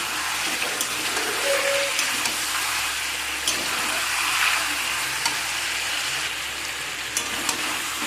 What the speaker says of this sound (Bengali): মাংসগুলোকে আমি ভালো করে তেলে ভেজে নেব